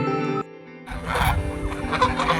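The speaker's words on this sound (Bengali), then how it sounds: "সামনে কতগুলো রাজহাঁস রয়েছে, ওদের আওয়াজগুলো পাচ্ছিলাম এতক্ষণ ধরে" Geese near a temple give a loud, drawn-out honking call, then break into a noisy burst of overlapping squawks and flapping close by.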